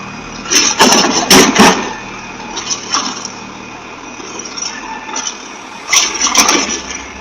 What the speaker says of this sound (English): The truck slid down, completely losing the battle against the slope.